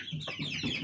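Newly hatched chicks on day 21 in a plastic mechanical incubator give a few quick, high peeps in under a second, close and fairly soft, with no talking.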